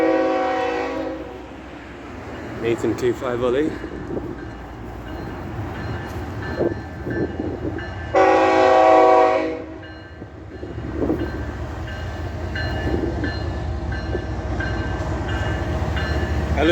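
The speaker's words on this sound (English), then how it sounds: "I hear the roar of the engine." A long freight train on half LNG, half diesel power rumbles through a railroad crossing in Hialeah with a loud, steady engine roar, blasts of the horn, and rolling wagon clatter close by; someone talks briefly over it.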